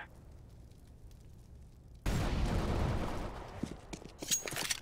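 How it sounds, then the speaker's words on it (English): Flashbang and incendiary grenades in a video game go off as a sudden loud blast after a quiet stretch, followed by a dense roaring rush with scattered crackles and pops. "Deploying flashbang. Incendiary out."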